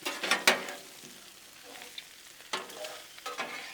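Shrimp, sausage and tomatoes sizzling on a Blackstone griddle, with bursts of scraping and stirring from a spatula between quieter stretches of frying.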